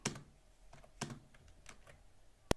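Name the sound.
pressing a number key on a computer keyboard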